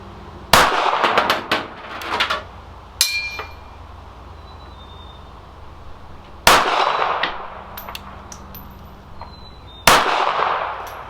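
Four sharp shots from a Ruger LCP II .380 pistol fired at a 16-inch steel plate 50 yards away on an outdoor range, each a loud crack with a short ringing tail, spaced a few seconds apart with quiet between.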